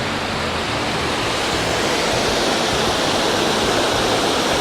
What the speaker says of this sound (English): That was a very impressive waterfall.